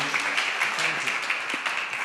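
Audience applause at a talk on the Bible's heritage in society and education, a steady wash of many clapping hands heard fairly close, with faint voices underneath.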